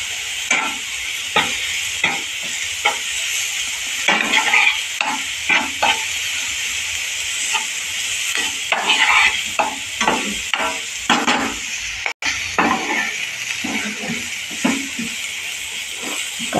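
Chopped onion with turmeric sizzles in a pan, a continuous frying hiss broken by repeated scraping stirs at irregular intervals, with no talk over it.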